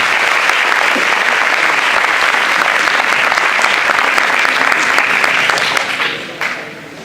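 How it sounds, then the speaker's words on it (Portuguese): Sustained applause from a seminar audience welcoming a guest speaker to a talk on the Brazilian economy, loud and steady for about six seconds before tapering off. "salva de palmas aí pro nosso convidado"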